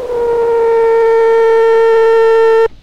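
Steady sustained tone from the filter feedback of a Surge software synth patch, rising out of noise, loud and pure with strong harmonics, holding evenly for over two seconds before cutting off abruptly.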